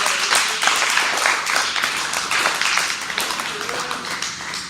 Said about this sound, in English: Let's clap it up for our college group